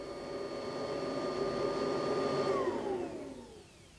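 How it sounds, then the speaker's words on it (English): A special vacuum cleaner that collects carpet dirt in a box whines with a steady hum, then winds down and fades out near the end. "a scientist might use a special vacuum cleaner that collects all the dirt in a box"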